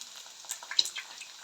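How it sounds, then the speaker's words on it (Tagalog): Pork frying in oil in a covered pan for adobong sitaw, a light crackling sizzle with small pops, close and steady, no talk. "Nagmantika na yung ating meat at saka parang na-crispy na tuloy."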